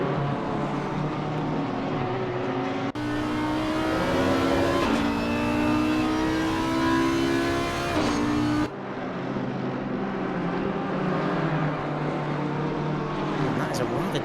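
GT3 race cars, among them an Audi and a damaged Nissan, drive the Kyalami circuit in a PC racing video game, with steady loud engine drone and rising gear-shift whines as cars pass, heard under ongoing commentary.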